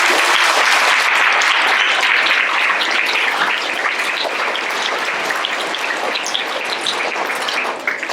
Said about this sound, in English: big round of applause for perfect attendance